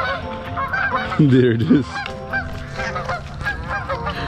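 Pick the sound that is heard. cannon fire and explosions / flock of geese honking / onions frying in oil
flock of geese honking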